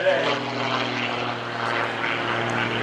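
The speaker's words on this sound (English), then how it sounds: "Wow, he's got this airplane singing today." A Greg Connell or Gary Ward aerobatic propeller airplane at the 2015 Greenwood Lake Airshow, its engine droning steadily and loudly with a strong low hum for the whole stretch, pitch holding fairly even.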